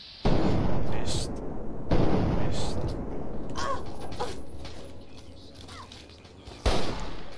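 Gunfire in Fallout 3 sounds as a few loud, close booming shots, spaced apart within a noisy game mix that includes bird-like chirps.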